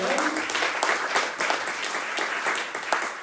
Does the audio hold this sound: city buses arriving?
no